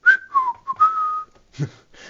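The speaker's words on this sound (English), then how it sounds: "You whistle innocently" A person whistles a short, close and clear tune of several sliding, wavering notes, followed by a brief pause and a few softer whistled fragments.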